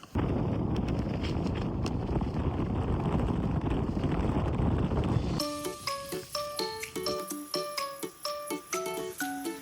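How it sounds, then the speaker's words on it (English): Strong wind at a ski resort roars and buffets against the microphone for several seconds, then gives way abruptly to bright tinkling music. "Very windy."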